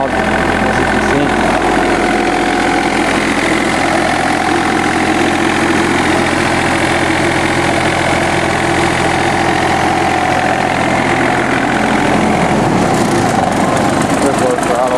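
A John Deere F1145 diesel mower engine idles at low throttle, a loud steady rumble with heavy vibration that holds evenly throughout and lightens slightly near the end, with a voice speaking over it.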